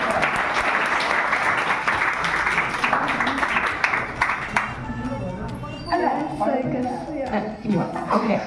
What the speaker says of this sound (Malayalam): ഒന്നുകൂടെ ഒരു ക്ലാപ്പ് വൺ ക്ലാപ്പ്